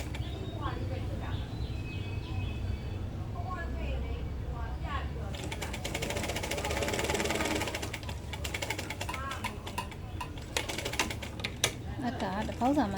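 A sewing machine stitches a fabric pocket in a steady mechanical clatter, close and continuous, with someone talking over it for most of the stretch.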